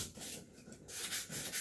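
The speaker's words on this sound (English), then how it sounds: "I'm going to sand mine a little bit too, like you did, because I like the way that looks" Hand sanding of a painted piece, steady scratchy rubbing strokes of sandpaper back and forth, close and fairly soft, with no voices.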